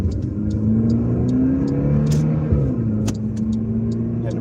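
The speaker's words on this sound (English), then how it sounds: "Had to rev it up to get out here" A car engine revs and drones steadily inside the vehicle, the pitch rising and falling under a constant rumble, with faint ticking clicks recurring throughout.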